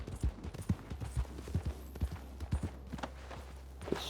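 Horse hooves clip-clopping as a horse is ridden in the video game Red Dead Redemption 2, a steady trotting rhythm of soft thuds over a constant low rumble, with a brief sharper knock near the end.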